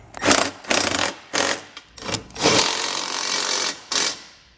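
Ratcheting of a 15mm socket snugging down hidden trailer hitch hardware on a 2020 vehicle: several short bursts of close, rasping clicks separated by brief pauses, then one longer steady run and a final short burst.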